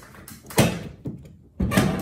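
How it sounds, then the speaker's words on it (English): A truck tailgate is pulled open, giving a few close scraping, creaking metal movements with a squeaky grind, in irregular bursts and fairly loud. "pull the tailgate open. It does squeak, yes I know."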